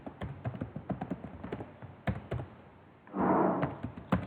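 Quiet computer keyboard typing at a Linux terminal, a quick irregular run of close taps and clacks followed by a brief burst of noise and a final key press.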